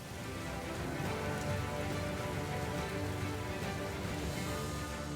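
Rain falls steadily on surfaces in a desert storm, a soft, even patter and hiss that holds at a constant low level throughout with no voices.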